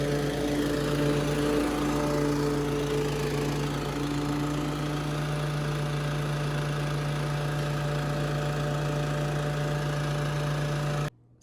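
A lawn mower drones steadily while cutting a yard in Texas, its engine a loud, constant hum with a stable tone throughout that cuts off abruptly at the very end.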